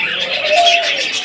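Australian doves kept with eggs and chicks give a soft, close, rolling coo that rises and falls smoothly, heard alone without any voices.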